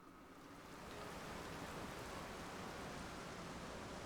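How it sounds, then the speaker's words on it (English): A soft, steady hiss of rain in The Legend of Zelda: Tears of the Kingdom fades in and holds evenly, smooth and quiet with no voices. "I need it to stop raining."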